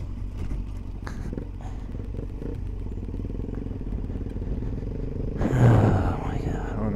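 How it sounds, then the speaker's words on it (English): A street bike engine rumbles and clatters as it rides over rough off-road ground, with a louder surge of engine and crunching near the end. A person talks over the motor. "off-roading in the street bike."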